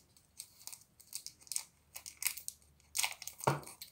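A wrapped strawberry Laffy Taffy candy being opened, its plastic wrapper giving off close, quiet bursts of crinkling and tearing in irregular rhythm, with no one talking.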